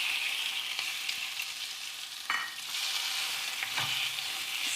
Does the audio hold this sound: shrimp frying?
yes